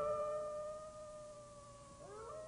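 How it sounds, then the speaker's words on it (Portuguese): A sustained wolf howl from a 1995 Brazilian stocking commercial, faint and drawn out with layered steady tones that bend and waver near the end. "Dizem que ela uiva, que se transforma nas noites de lua cheia."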